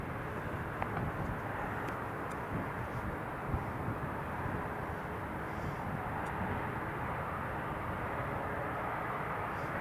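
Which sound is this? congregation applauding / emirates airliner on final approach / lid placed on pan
emirates airliner on final approach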